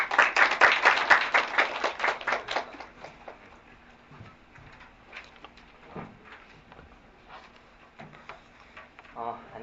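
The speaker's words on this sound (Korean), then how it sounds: "박수로 맞아주세요." Applause from an audience at a Korean children's and youth rights forum, welcoming a lecturer from the International Child Rights Center to the stage. It is loud at first, then thins into scattered claps under murmuring.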